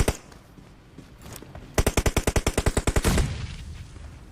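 Automatic gunfire in the PUBG Mobile video game, a rapid burst of about fifteen evenly spaced shots fired close by, preceded by a few fainter single shots.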